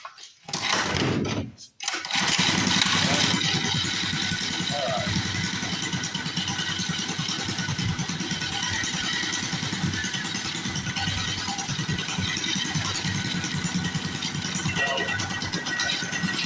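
A cheap, worn mini bike's small single-cylinder engine fires up after a short stutter and settles into a loud, steady idle close by, running on without pause.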